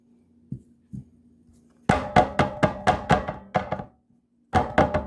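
A bowl of melted chocolate being tapped against a kitchen counter to settle it, giving a few soft knocks followed by a quick series of firm, evenly spaced hollow taps, a pause, then another brief burst.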